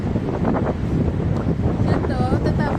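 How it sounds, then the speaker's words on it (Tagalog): Strong wind buffets the microphone in a steady, loud roar outdoors in the cold, with a voice speaking faintly beneath it. "Lakas ng hangin."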